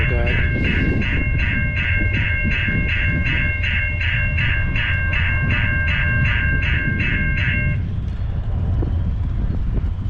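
Northbound CN freight train passing at night at Spaulding, a loud steady rumble of rolling cars with a regular clanking rhythm and a high ringing tone that stops near the end while the rumble carries on.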